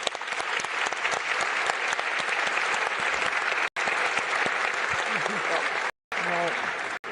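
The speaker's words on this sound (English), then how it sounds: "a round of applause for our panelists" Applause for panelists at the close of a panel session at a political summit in London, a sustained burst of many hands clapping close and loud, with a couple of brief dropouts and a voice cutting in near the end.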